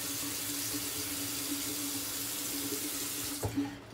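Water is poured steadily onto a dried-out brush, a continuous splashing trickle like a running tap that cuts off abruptly near the end.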